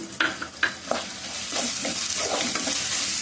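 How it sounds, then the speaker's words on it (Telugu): Fish curry masala with salt, turmeric, chili and coriander leaves fries in a pan, a close spoon scraping and stirring several times over a continuous sizzle, with no voices. "మళ్ళీ కొద్దిగా వేగనిద్దాం."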